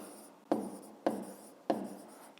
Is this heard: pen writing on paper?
yes